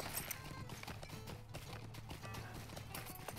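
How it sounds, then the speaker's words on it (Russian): Hooves clip-clop steadily for an invisible horse in the online game LOTRO, under a dense wash of game music and ambience, fairly quiet throughout. "Невидимая лошадь. Вот так чудеса."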